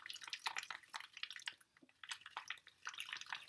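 A small ice-cream-tub style spoon stirs a wet face mask paste, making quiet squelchy, dripping clicks in uneven bursts close by.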